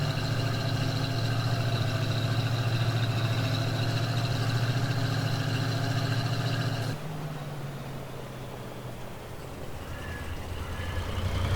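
A KhTZ tractor engine in Farming Simulator 22 idles steadily and loudly for several seconds, then cuts to a quieter, lower rumble with faint background noise.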